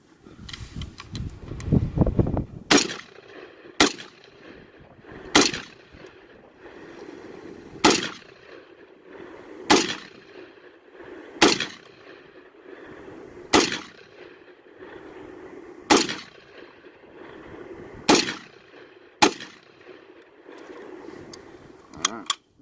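Shots from a Palmetto State Armory Chinese SKS rifle ring out at the range, about nine sharp cracks at a slow, fairly even pace over twenty seconds, each loud and close with brief decay between.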